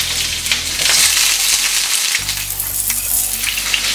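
Onion, ginger and garlic sizzle loudly in hot oil in a pot, a dense continuous crackle with occasional scraping stirs, alone with no voices.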